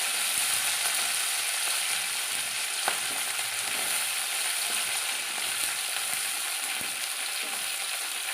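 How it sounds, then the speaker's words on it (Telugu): Tempering for tomato chutney hisses in hot oil with a loud, dense, unbroken sizzle, and a few faint clicks and scrapes surface now and then; no one speaks. "ఇప్పుడు టమాటా చట్నీ తాలింపు వేస్తున్నాను అండి"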